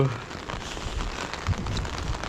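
Steady rain patters on a surface in Manali, a soft, even hiss with scattered drop sounds.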